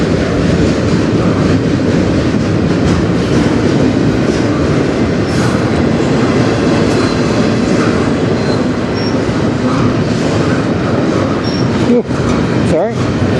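A CN freight train rolls past at night on the Strathroy Subdivision, loud and close, with a continuous heavy rumble of wagons, clattering wheels and brief squeals near the end while a voice talks over it.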